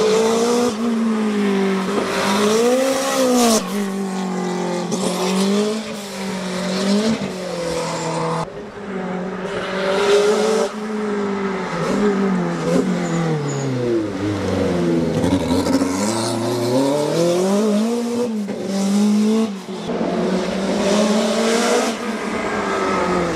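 A Renault 5 Turbo rally car from the early 1980s races hard, its engine revving and falling repeatedly through gear changes, with rising and dropping whines, a deep braking dip and occasional tire squeal, loud and close throughout.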